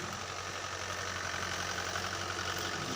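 A tractor engine runs steadily while pulling a 575 cultivator through a field, a low, even mechanical drone with a slight knocking rhythm, moderately quiet and without talk.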